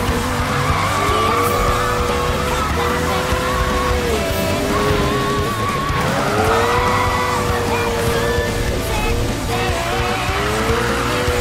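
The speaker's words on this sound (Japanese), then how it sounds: "それにしてもこいつ、滑り出したら止まらねえな。" A Japanese car drifting in Need for Speed 2015, tires squealing in long, sweeping skids that rise and fall over a constant engine roar, loud and unbroken throughout with no talk.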